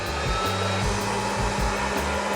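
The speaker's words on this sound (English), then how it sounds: "We are going to turn the popper on. This will turn on the fan and start the heating element in the popper." A hot-air popcorn popper runs with its fan and heating element on, giving a loud, steady, close whooshing roar with a low hum underneath. It plays alone, with no talking.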